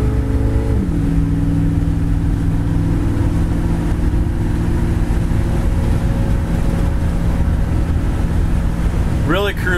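A 1968 Chevy pickup truck cruises down the road on a very windy day, its engine holding a steady low drone under constant wind rush, with a brief rising whine right at the end.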